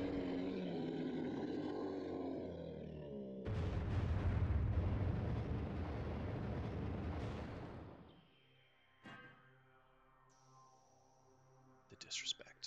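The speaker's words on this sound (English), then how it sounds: "Who needs thermal? I've got bombs." Bomb blasts in Metroid Prime: a loud burst of deep, rumbling explosion noise swells and sustains for several seconds, then gives way to quieter ringing game tones and a few sharp electronic blips.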